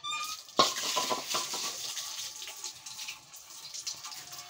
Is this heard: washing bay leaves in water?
yes